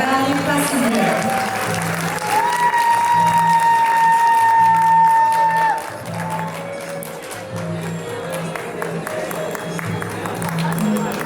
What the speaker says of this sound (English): Let's give a round of applause, please.